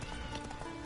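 Roach, the horse in The Witcher video game, gallops with quick, dense clip-clop hoofbeats in a brief burst under the game's steady background sound.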